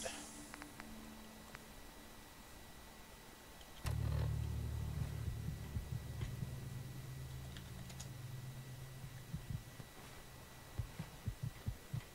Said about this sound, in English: I can't stand listening to my heart beating in my ear.